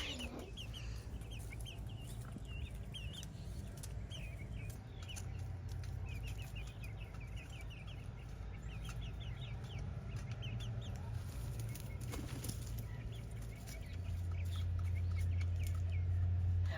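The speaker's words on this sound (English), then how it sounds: "we have our little pullets out getting some outside time, and they like the lilac bush" Young pullets cluck softly beneath a lilac bush, a flock of scattered chirpy calls coming and going at moderate distance over a low outdoor hum that swells near the end.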